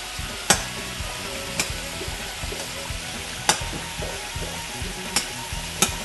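Onion and pepper strips frying in a pan on the heat, an even sizzle over a low hum, punctuated by a handful of sharp utensil clicks spaced a second or so apart, with no speech.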